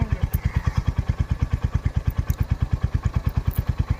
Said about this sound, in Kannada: ಬೈಕ್ ರೈಡ್ ಮಾಡಿ ಹೋಗಬೇಕು.